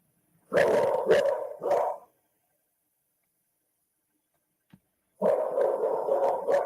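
A dog barks three times in quick succession, then falls silent for a few seconds before barking again in a longer, rapid burst. The barks are moderately close and clear, with no talking over them.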